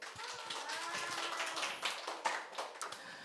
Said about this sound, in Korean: 우리에게 악을 이기라고 말씀을 주신 우리 예수님께 영광의 박수